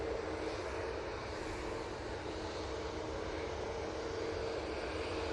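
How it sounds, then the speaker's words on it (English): Airbus A320 airliner of EasyJet arriving at Manchester Airport on a positioning flight from London Gatwick, a steady, loud broadband jet roar that holds evenly throughout with no talk. "the EasyJet A320 coming in from London Gatwick Airport on a positioning flight"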